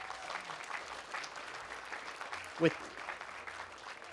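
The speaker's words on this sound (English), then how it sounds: "So please give them a round of applause." An audience at a city State of the City event applauds in a moderate, fairly distant wash of clapping, with a brief louder knock or thump partway through and faint voices mixed underneath.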